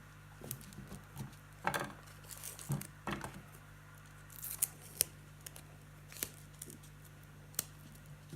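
Scissors snip through a piece of 3D foam for card making, a quiet, close series of short crisp cuts and small handling taps spread unevenly, with a low steady hum underneath.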